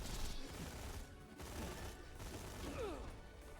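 Rapid automatic gunfire from a fast-firing weapon in the FFYLands game, a dense continuous barrage of shots with game effects layered over it, steady and loud throughout.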